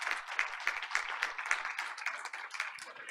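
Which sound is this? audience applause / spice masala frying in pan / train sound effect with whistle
audience applause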